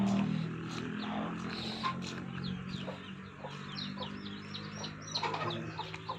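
Newly hatched chicks peep in a small brood, with rapid, high, thin chirps repeating over steady background noise and faint low rumbles.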